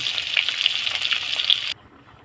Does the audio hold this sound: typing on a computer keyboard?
no